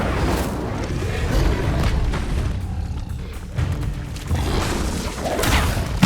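A fire spell cast in Hogwarts Legacy on PS5 sounds as a roaring, booming whoosh of flame with crashing impacts, loud and sustained, with no talk over it.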